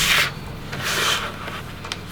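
Scrapbook paper being trimmed for a Creative Memories album, a close scraping, rubbing sound of a cutter drawing along the paper in a couple of continuous passes, with no talk.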